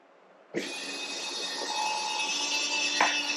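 An RV's electric entry steps retract, the motor whirring steadily after a sharp click, a sustained mechanical hum with a brief knock near the end, close by.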